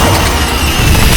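An Incendio fire spell cast in the Hogwarts Legacy video game bursts out as a short, dense, roaring blast of flame that fills the whole moment.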